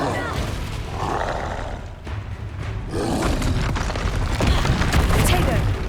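The Incendio fire spell in Hogwarts Legacy releases loud roaring, booming bursts of flame amid ongoing combat noise, with a voice calling out spells.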